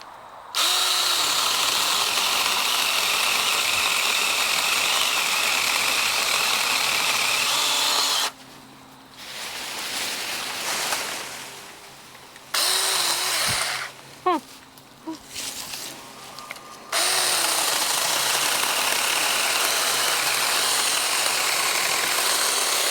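A Saker 6-inch mini electric saw cuts through white birch hardwood with a loud, steady whine, breaking off twice into quieter gaps with small clicks and handling noise before the motor roars back at full speed.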